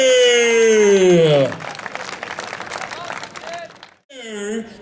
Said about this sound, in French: Mais une bonne main d'applaudissement, s'il vous plaît, Cecil Star et Donald Lambert.